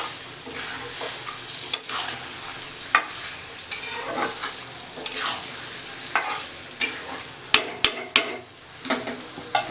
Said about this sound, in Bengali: আলুগুলো মিশিয়ে আবার একটু নেড়ে দিচ্ছি। হ্যাঁ, হাতা দিয়ে।